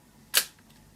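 A Fed 4 Russian rangefinder camera fires its shutter once, a single sharp close mechanical click with a short tail, alone in quiet room tone.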